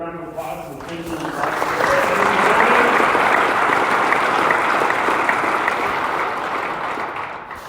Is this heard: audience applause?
yes